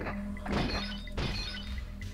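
Clay pigeon targets shot and shattering in the arcade shooting game Point Blank, two sharp bursts of breaking debris about half a second apart over a steady game soundtrack.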